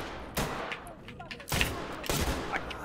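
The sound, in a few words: gunshots in a video game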